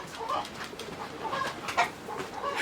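Chickens in a coop clucking and calling together in a chorus of overlapping mid-pitched clucks, steady and moderately close.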